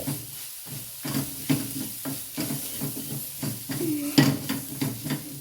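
A spiced jackfruit and meat mixture is sautéed in a pan with coriander powder, giving a close, steady sizzle broken by repeated rhythmic scrapes and stirs of a spoon against the pan.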